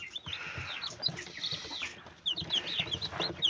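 Newly hatched chicks in an incubator give repeated, close, high-pitched cheeps in quick overlapping bursts over a soft background.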